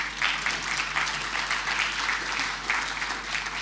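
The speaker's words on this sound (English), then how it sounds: "Kane Williamson, I'd like a round of applause" A roomful of people gives a steady round of applause at a public talk on Auckland's future and housing density, the dense clapping heard at moderate distance over a low hum.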